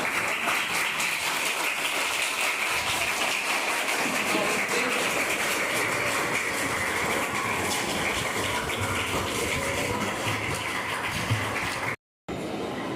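Classroom applause fills the room after a correct answer in a Class 10 geography quiz at a school, a steady dense patter of many hands clapping for about twelve seconds before cutting off abruptly.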